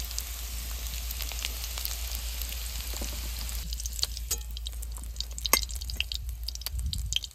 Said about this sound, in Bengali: এঁচড়ও সুন্দর করে ভেজে নিয়েছি,